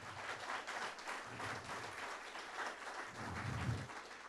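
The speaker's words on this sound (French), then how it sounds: "Oui, vous pouvez les applaudir." Audience applause for a panel of speakers at a workshop on legal and tax matters, a steady wash of clapping from a moderately distant crowd lasting several seconds, fairly quiet, with no voices over it.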